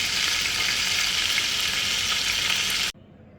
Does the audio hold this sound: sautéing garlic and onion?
yes